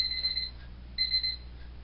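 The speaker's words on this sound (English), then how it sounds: "That was the timer to remind me to take my medicine." Two short bursts of a high electronic timer alarm reminding someone to take medicine, a rapid beeping pattern repeated about a second apart, clear and fairly close in a quiet room with no talking.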